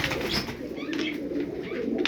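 Pigeons coo softly and continuously among Turkish play pigeons, the low murmuring coos overlapping under faint scattered chirps, close and steady with no talk.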